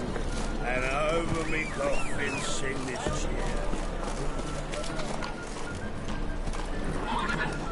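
A horse in the video game The Witcher 3 gallops with rapid clip-clop hoofbeats and lets out repeated loud whinnies, set against game background sound.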